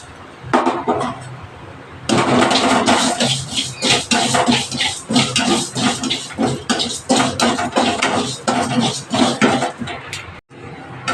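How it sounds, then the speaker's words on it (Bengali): Rice grains frying in a hot pan for a rohu fish curry, a dense continuous sizzle and crackle with scraping stirs, loud and close throughout. "আমি প্রথমে এই যে কটা চাল ভেজে নেব"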